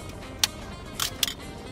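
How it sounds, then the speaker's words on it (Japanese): A sluggish shutter curtain in a junk SLR film camera gives a few faint, separate clicks: one short snap, then two more close together, heard alone over quiet hiss. "うん、シャッター幕の動きが明らかに鈍い。"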